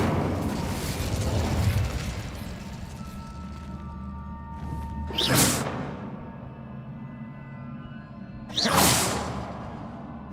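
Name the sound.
Incendio fire spell whoosh in Hogwarts Legacy video game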